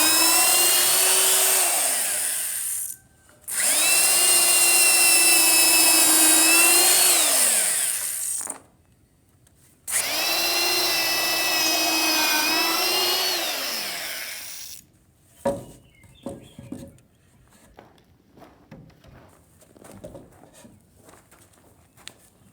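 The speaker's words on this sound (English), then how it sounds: "Then we're going to go ahead and finish drilling those out" A power drill bores into timber for a bench swing arbor in two long bursts, its motor whining up and bogging down, then stopping, followed by scattered clatter and handling noises.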